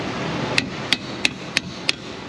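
A pry hammer strikes bent, mangled metal on a damaged Ford Ranger XLT 3.0 4x4, five sharp metallic blows at an even rhythm, close and loud over low background noise.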